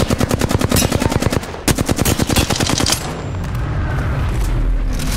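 Dense rapid automatic gunfire in Apex Legends, loud and close, a steady stream of shots that briefly breaks off and resumes before giving way to a rumbling wash of noise.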